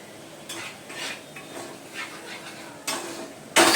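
Curry being stirred in a pot just after water is added, heard as a few separate scraping strokes of a spoon against the pot, moderately close, with a sharper clatter at the end and no talking.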